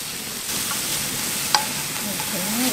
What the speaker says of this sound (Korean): 참기름에다가 마늘, 양파 먼저 볶을게요